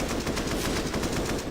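Automatic gunfire in a Counter-Strike match during a FURIA vs. Monte playoff semi-final, a dense, continuous rapid-fire burst that fills the whole moment at steady loudness.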